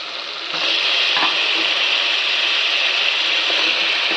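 Ridge gourd pieces dropped into a pan and stirred, a loud continuous hiss and scraping sizzle that swells after a moment, with faint spoon knocks, no voices.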